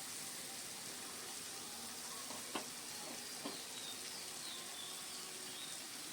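Grated pointed gourd frying in a pan with green chillies, a faint, even sizzle running throughout, broken by a couple of brief clicks from a utensil midway.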